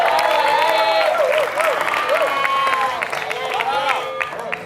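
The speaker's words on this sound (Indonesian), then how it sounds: "Oh wow, boleh kita berikan tepuk tangan?" Studio audience applause on the Indonesian dating game show Take Me Out Indonesia, a steady dense wash of clapping and crowd noise lasting several seconds, with a host's voice riding over the top.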